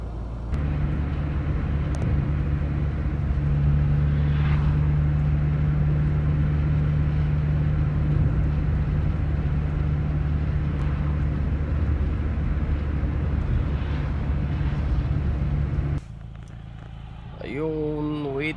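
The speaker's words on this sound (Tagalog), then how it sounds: "Yun na guys, yung aking truck." A European long-haul truck drives through Hungary, heard as a steady, loud engine drone with a constant hum from inside the cab. Near the end the drone briefly drops away and a short voice is heard.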